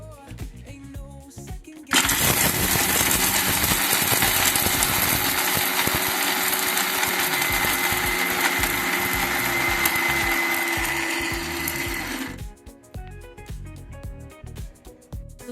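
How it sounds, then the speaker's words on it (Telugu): A kitchen mixer grinder pulverises dried mango kernels into powder, a loud close whirring motor roar that starts suddenly, runs steadily for about ten seconds and then stops, with quieter handling sounds before and after. "ఈ మిక్సీలో పట్టుకుంటున్నా అనమాట"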